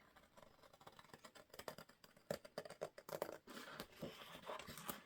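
Scissors snip through paper while a folio is trimmed, a run of quick, close, crisp cuts with small rustles and taps between them.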